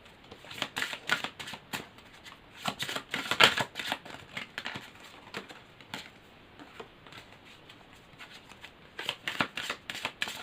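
Tarot cards are shuffled close by in repeated quick bursts of crisp riffling and slapping, with short pauses between runs and no talking.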